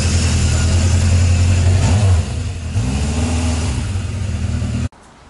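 A 1978 Honda CB750F Super Sport motorcycle engine under way on a ride: a loud, steady, throaty drone that eases briefly in the middle, then swells again before cutting off abruptly near the end.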